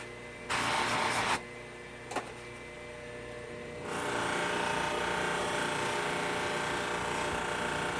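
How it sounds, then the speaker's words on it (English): A waxing wheel buffs wax onto an Imperial Giant tobacco pipe during a refurbishment, giving a steady, moderately loud motor whir with rubbing noise. A brief burst of contact comes first, then the sound settles into continuous spinning that grows fuller as the wheel works the surface. "With the waxing wheel, you go over and over and over and over your work multiple times"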